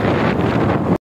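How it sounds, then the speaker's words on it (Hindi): Cold wind buffeting past a motorbike rider in Haripur, a loud, steady roaring rush of wind noise close on the microphone that cuts off abruptly at the end. "वहाँ ठंडी चलने लगी।"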